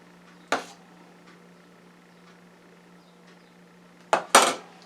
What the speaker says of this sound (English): let's put some in a dish